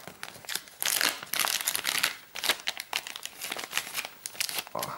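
Crinkly plastic zip bag of game markers being opened during a board game unboxing, with loud, close crackling and rustling in repeated bursts throughout.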